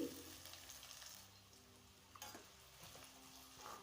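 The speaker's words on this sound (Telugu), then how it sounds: "అదే నూనెలోకి పోపు దినుసులు అలాగే ఎర్రగడ్లు పచ్చిమిర్చి వేసి బాగా ఫ్రై చేసుకోవాలి" Onions, green chillies and tempering spices fry in hot oil for semiya upma, a steady close sizzle broken by scraping stirs and utensil knocks, with no one talking.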